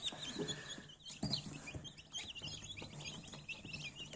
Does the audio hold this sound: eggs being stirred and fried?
no